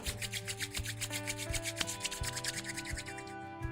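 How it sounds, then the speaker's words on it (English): Palms rub together to warm them during a yoga session, a steady rhythmic brushing in quick back-and-forth strokes, soft and close, heard under sustained background music tones. "you can bring the palms to meet in front of the chest, and you can rub them together to warm them up."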